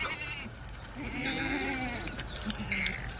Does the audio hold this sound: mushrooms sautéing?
no